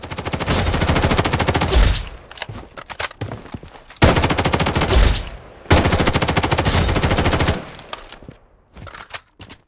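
Loud, punchy automatic gunfire in the first-person shooter BloodStrike, several rapid bursts of fast shots separated by short pauses, with scattered single shots near the end and no talking.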